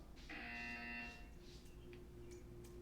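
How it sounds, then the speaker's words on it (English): A test chamber buzzer in the video game Portal 2 sounds once, a harsh electronic tone of about a second, followed by a quiet low hum. "You will hear a buzzer. When you hear the buzzer, stare at the art."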